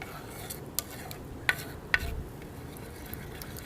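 A spoon stirs yeast into warm sugar water in a bowl while pizza dough is being prepared, giving a few light clinks and taps against the bowl over a soft background.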